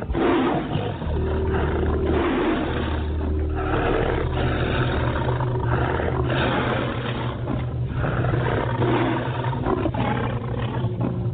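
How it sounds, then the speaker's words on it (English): A tiger roars loudly and continuously at close range, a deep, forceful rumbling growl that fills the whole stretch without pause or talk. "they felt the physical effects of the tiger's roar."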